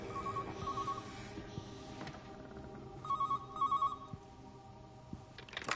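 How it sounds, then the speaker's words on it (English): An old-fashioned telephone rings in the video game Everybody's Gone to the Rapture, with several short electronic ring bursts in two clusters over quiet ambient background, no voices. "Answer the phone."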